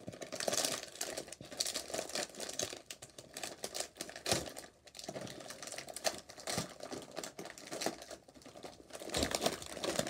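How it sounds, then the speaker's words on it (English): A chip bag crinkles and crackles continuously as its edges are folded over after being flipped upside down, with dense, busy rustling throughout and no talking. "flip your chip bag upside down, then fold the edges like that"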